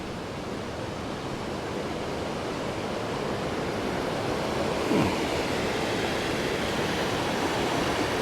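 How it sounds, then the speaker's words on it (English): McCloud Falls, a waterfall stepping down into a canyon, gives off a constant broad roar of rushing water, heard steadily from a moderate distance with some wind and no talking. "Looks like they're a waterfall as in steps into a canyon"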